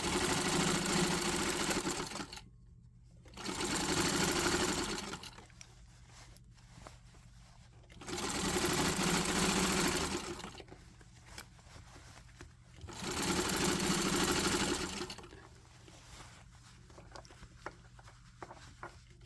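A sewing machine fitted with a regular needle stitches through thick hemmed pant seams in four loud, steady bursts of rapid whirring, with quiet gaps between them.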